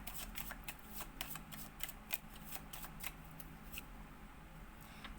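A deck of zodiac tarot cards being shuffled, soft quick riffling and flicking of cards in a rapid irregular rhythm, quiet and close, with no speech.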